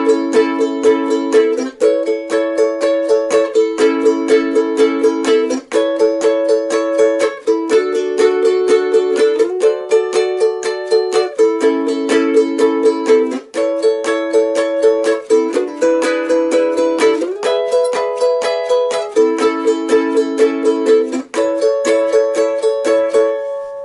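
A ukulele plays a song with chord shapes up the neck, giving bright, loud strummed chords in a driving rock-and-roll rhythm with no talking.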